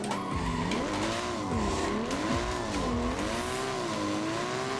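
An 800 bhp BMW M2 drift car in Assetto Corsa slides steadily, its tires squealing without a break over a droning, wavering engine note, close and loud throughout.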